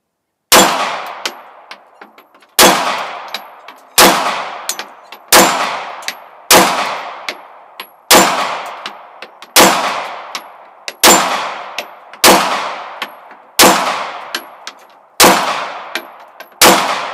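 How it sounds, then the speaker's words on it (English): A Canik TP9 SF pistol with a threaded extended barrel fires at an 8-inch steel plate on a swinging platform 20 yards away; about a dozen sharp shots ring out, each followed by a metallic clang, at an even, moderate pace. "We're shooting at an 8-inch steel plate that's 20 yards away on a swinging platform."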